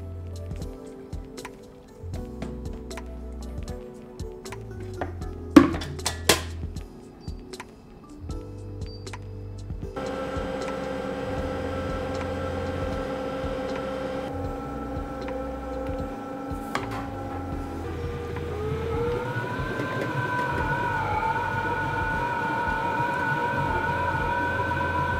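An ice cream machine churns apple cinnamon ice cream, first with intermittent clicks and clunks, then settling into a steady motor hum and whir that rises slightly in pitch partway through, continuous and moderately close.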